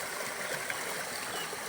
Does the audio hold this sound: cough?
no